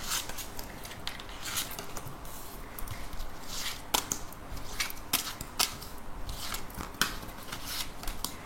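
Someone handles a deck of cards for a tarot-style card reading: crisp snaps, shuffles and soft slaps of cards sound up close in an irregular run of clicks, with no speech.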